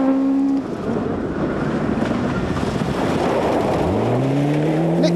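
Rear-wheel drive Ford Escort rally car on a stage of the 1997 Kerridge Rally, engine roaring loudly and steadily under heavy wind noise, then rising in pitch as it accelerates away near the end.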